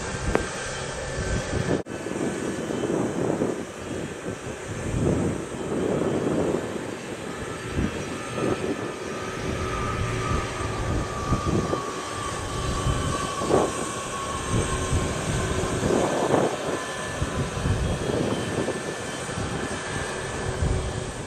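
A fixed-wing airliner on approach to land at Montego Bay airport in Jamaica, a steady broadband engine roar heard from a distance that holds at a fairly even level throughout, with a faint descending whine and no talk over it.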